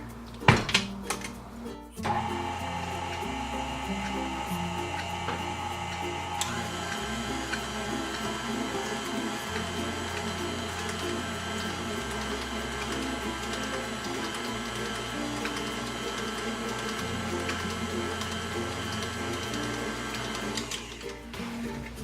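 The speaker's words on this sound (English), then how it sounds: "I'm gonna go ahead and give that a stir." Gluten- and dairy-free pumpkin coconut muffin batter with vanilla, cinnamon and nutmeg is mixed. A brief clatter leads into a steady mechanical whirring and rattling that runs close and unbroken for about twenty seconds.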